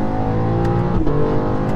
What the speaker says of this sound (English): The exhaust opens up